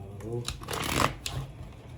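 Tarot cards are shuffled by hand in quick riffling bursts, close up, while a person talks over them.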